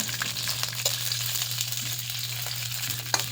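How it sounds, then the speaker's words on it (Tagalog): Milkfish (bangus) fries in a pan with a steady, close, crackling sizzle that holds evenly throughout, with a few sharper pops and spatters rising above it. "i-fried natin ng konti"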